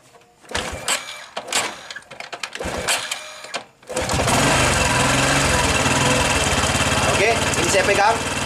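A Honda Supra X 125 PGM-FI motorcycle engine starts after a few seconds of voices and clatter, then runs loudly and steadily with the throttle held high until the end.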